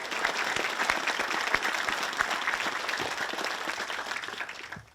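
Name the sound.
applause for the Scouts and young leaders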